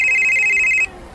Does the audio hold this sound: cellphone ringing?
yes